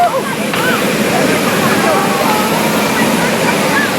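V-22 Osprey tiltrotor aircraft at an airfield, a loud, steady broadband roar of engines and rotors throughout, close by and without pause.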